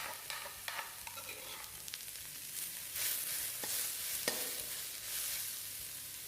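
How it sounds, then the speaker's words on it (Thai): Chicken offal with curry paste sizzles and crackles in a hot, lightly oiled pan while being stir-fried, with scattered scraping clicks of a utensil against the pan. "นำเครื่องในไก่ของเราลงไปคั่วเลยนะคะ"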